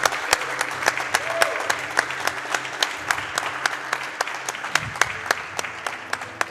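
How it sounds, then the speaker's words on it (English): Sparse, scattered applause from a small audience at a charity speedrun marathon event, with distinct individual claps ringing out over a steady low hum and faint background voices. "Give him a round of applause for that."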